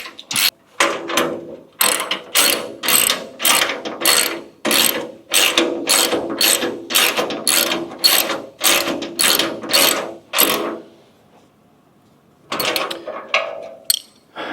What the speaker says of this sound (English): You can see how much faster it is with a ratchet and a 14mm